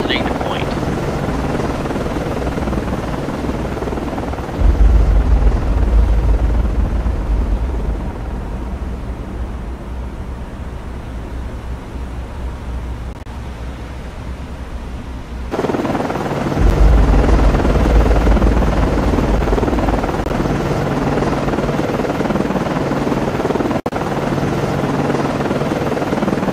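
An SH-60 helicopter flying at night in the Cold Waters naval game thrums with a loud, continuous rotor and turbine roar that swells and fades. Radio voices talk over it in short exchanges.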